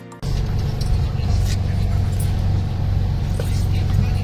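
A passenger boat's engine drones steadily and loudly on a river in Kalimantan, close by and continuous from just after the start, with a low rumbling hum and faint vehicle-like tone throughout.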